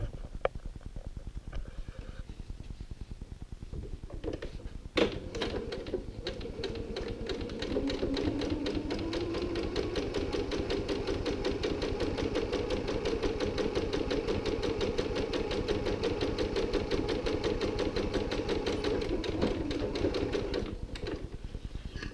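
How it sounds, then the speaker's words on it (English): Sewing machine stitching a gusset on a fabric tote bag, a steady rapid needle clatter that starts after a single sharp click and runs evenly for about fifteen seconds before slowing at the end. "I'm going to stitch 3/4 of an inch from the top fold of that"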